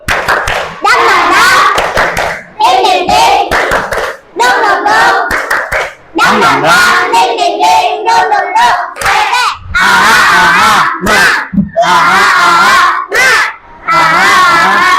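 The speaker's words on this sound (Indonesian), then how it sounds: "Kita pakai tepuk semangat yang baru ya." A group in a teacher-training class performs a rhythmic clapping chant, loud voices chanting in bursts between sharp, patterned hand claps, with short pauses between phrases.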